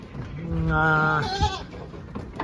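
A single goat gives a loud, close, wavering bleat at a goat and sheep distribution center, followed by low background noise.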